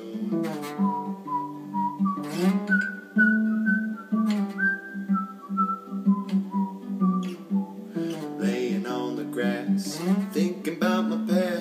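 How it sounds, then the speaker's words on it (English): A person whistles a melodic tune alone, with clear sustained notes rising and falling in phrases and brief breaks between them, close and fairly loud. "Might as well whistle my favorite tune."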